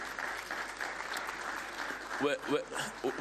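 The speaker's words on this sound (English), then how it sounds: "whenever we can clap hands to that" Applause at the CAF 46th Ordinary General Assembly, a steady wash of clapping from the audience, with a voice speaking over it toward the end.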